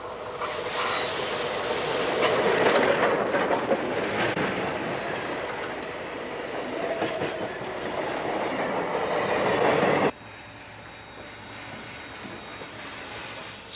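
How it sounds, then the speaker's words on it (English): The world's largest operating steam locomotive rumbles steadily nearby with a broad, rushing roar and faint rhythmic clatter, then drops abruptly to a quieter, steady background hum. "This is the world's largest operating steam locomotive."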